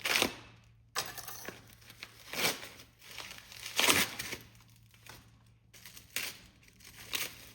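Product packaging for differential parts is unwrapped close up in a series of soft crinkles, rustles and tearing bursts. Brief quiet gaps fall between the handling sounds, and there is no talking.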